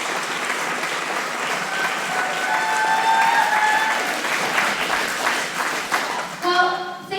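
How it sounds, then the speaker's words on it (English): Audience applause at a city awards ceremony, sustained clapping from a sizeable crowd with a few cheers mixed in, fading as a voice begins speaking at the end. "Let's give a warm round of applause to the Shotwell family."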